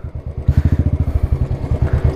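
A motorcycle ridden on a rough, landslide-damaged mountain road in Mustang, Nepal, thuds and clatters in a fast pulsing rhythm, loud and close, as the engine labours over the uneven surface.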